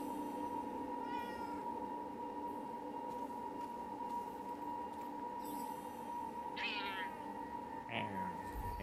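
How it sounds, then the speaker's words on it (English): A cat meows in the video game Forspoken, two or three short rising cries late on, heard over a steady droning game ambience with no talking. "Hey, I think I heard a cat."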